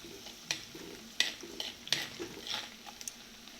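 Chopped ginger frying in a pan for a king fish curry, with a few sharp stirring scrapes and soft sizzling bursts, close and fairly quiet with no voices.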